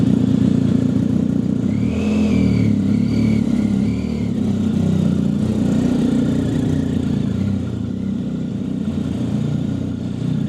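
A motorcycle engine rumbles steadily and close by as the rider sets off on a road trip toward Shenandoah, a deep continuous low drone with a few brief higher whines layered on top, and no talking.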